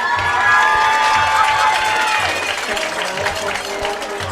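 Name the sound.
applause for homecoming court member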